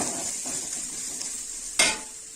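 Onions with turmeric and spices frying and being stirred in a pan for quick besan sambar, a steady soft sizzle with scraping stirs and one louder clatter of the spoon near the end.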